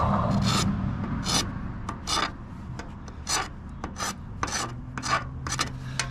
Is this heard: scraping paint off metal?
yes